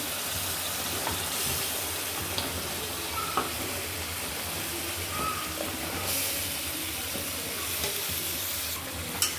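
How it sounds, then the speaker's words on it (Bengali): Eggplant pieces dropped into a pan of spice paste that has already been fried down, sizzling and frying quietly along with stirring and scraping. The steady hiss continues under occasional utensil clinks, with no talking. "মশলা কষানো হয়ে গেছে, এখন আমি বেগুনগুলো দিয়ে দিচ্ছি।"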